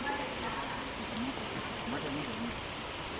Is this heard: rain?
yes